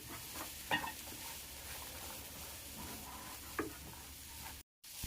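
Peas chaat mixture seasoned with chaat masala being stirred in a pan, a steady soft scraping and mixing texture with a couple of sharper spoon knocks, close and moderately loud, no talking.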